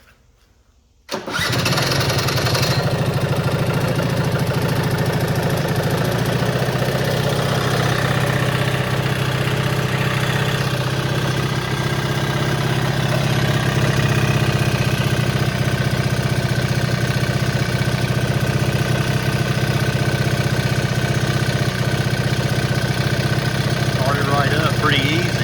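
A 2003 Suzuki LT80 ATV engine catches after a brief quiet moment and keeps running at a steady, loud idle close by for the rest of the time, with a faint voice now and then.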